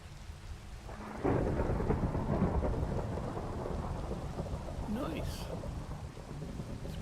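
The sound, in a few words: thunder during a thunderstorm with rain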